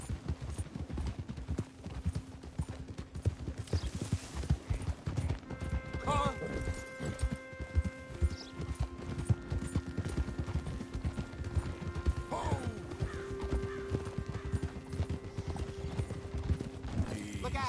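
Rhythmic clip-clop of horse hooves trotting steadily throughout in the video game Red Dead Redemption, with a horse whinnying briefly and game-like tones and effects layered over it.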